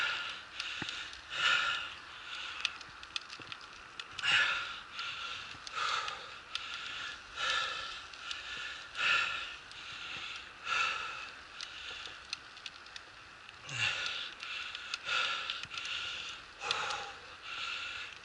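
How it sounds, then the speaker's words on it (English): A mountain biker breathes hard after exercise near Stromlo, with steady close rhythmic heavy breaths and sniffs repeating over and over, alone and fairly faint. "Yes, you can hear me breathing hard."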